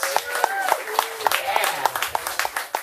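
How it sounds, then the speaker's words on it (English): At a comedy show, scattered audience clapping for a comedian comes through as a few distinct rhythmic claps, with people talking and calling out over it throughout. "Give him another round of applause."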